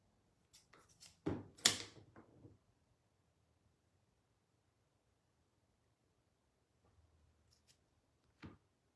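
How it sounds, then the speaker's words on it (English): A few quick snips of scissors slicing through paper, then quiet, followed by a couple of softer faint snips near the end. "Straight across with my scissors"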